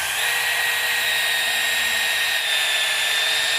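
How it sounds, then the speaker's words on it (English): Power drill boring a quarter inch hole through the edge of Swisstrax garage floor tile, a steady high whine that runs close and constant with no pauses. "now I'm gonna drill a quarter inch hole at 5/8 off the edge."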